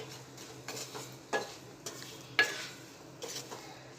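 Rice being stirred with powdered sugar in a pan, a spoon scraping and clinking against the metal in a series of quick, uneven strokes over a faint sizzle, close up with no talking.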